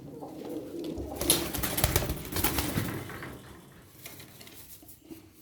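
Tumbler pigeons in a loft coo in soft, repeated throaty bursts close by, mixed with light clattering and rustling in the background.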